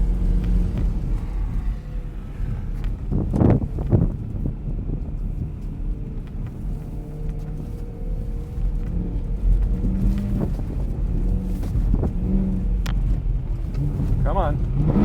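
A BMW E92 M3 on Vredestein Wintrac Pro winter tires drives over bumpy, slippery snow, its engine a continuous heavy rumble from inside the cabin with occasional thumps over bumps, while someone talks over it.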